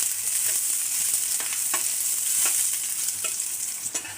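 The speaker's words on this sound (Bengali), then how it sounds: "এখন এগুলো একটু লাল লাল করে ভেজে নেব" Chillies frying in a pan with tempering spices for a drumstick mash, a steady close sizzle with light stirring scrapes and clicks recurring every second or so.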